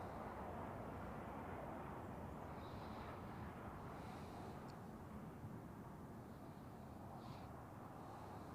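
A Thai Airways airliner at Zurich Airport, heard as a steady, continuous roar of jet engine noise that stays loud and broad throughout, with no talking.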